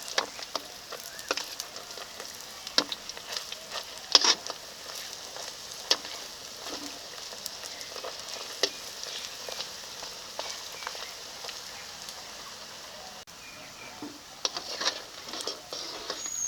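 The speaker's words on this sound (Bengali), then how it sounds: "একটা সাইড ভাজা হয়ে গেছে এখন উল্টে দিয়ে আর একটা সাইড ভালো করে ভেজে নেব" Potato leaf fritters frying in hot oil, with a soft, steady sizzle and scattered crackling pops at a moderate distance throughout.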